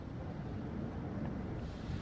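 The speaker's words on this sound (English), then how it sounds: "Very windy out here today." Low, continuous wind rumbles and buffets against the microphone, steady and fairly faint throughout.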